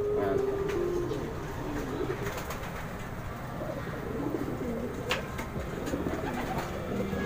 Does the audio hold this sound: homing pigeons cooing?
yes